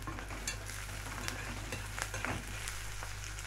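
Onion fries gently in oil with garlic and hot chili pepper, giving a soft steady sizzle. A few light stirring scrapes and clicks sit over the sizzle, which stays quiet and even throughout.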